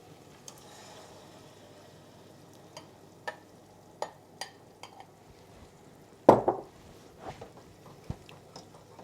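Tomatoes go into a pan for a monkfish pomodoro and are stirred: scattered scraping clicks and spoon knocks against the pan, with one louder clatter midway, over a faint steady sizzle.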